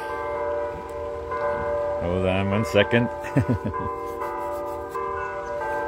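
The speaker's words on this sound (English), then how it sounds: "I'm going to have to wait until the bells stop ringing" Church bells ringing on a Sunday morning beside the Nippersink River in Spring Grove, Illinois, their sustained tones ringing continuously, with louder swells and strikes in the middle, as someone speaks briefly over them.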